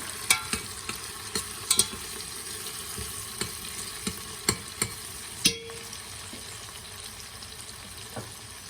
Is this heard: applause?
no